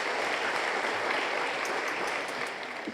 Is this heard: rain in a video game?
no